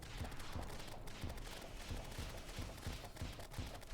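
Firecracker whip attacks in the Terraria video game, heard as rapid repeated cracking pops in an irregular rhythm over a dense, loud wash of game sound effects.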